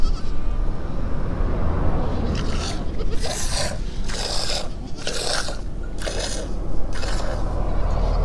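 A goat bleats repeatedly in a run of loud, close, wavering cries, each call separated by a short pause, over a constant background rumble with scraping and chewing-like noises.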